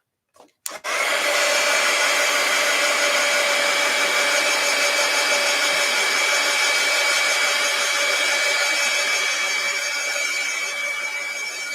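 A hair dryer blows steadily on an art journal page, switching on with a click and then running loud and close in one continuous whine with no talking.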